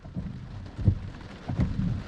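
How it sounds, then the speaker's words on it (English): Heavy rain drumming on a Tesla Model 3 during a storm, a dense steady wash of noise with low rumbling swells, heard from inside the car with no talking. "Look at all this rain."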